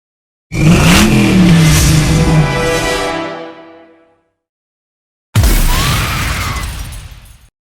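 Unused truck menu effect from the racing game Split/Second: a loud engine rev swells and fades over about three seconds, then after a silent gap a second rev bursts in with a crunching impact and dies away.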